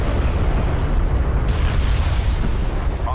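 A hostile interceptor blowing up in Homeworld: Deserts of Kharak, a loud, dense rumbling boom that fills the whole stretch with a continuous roaring, crackling wash and no clear decay.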